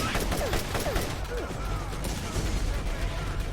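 Turret gunfire in the video game Borderlands rattles as a dense, steady fusillade under game ambience, with a few faint whooshing projectile sweeps over it.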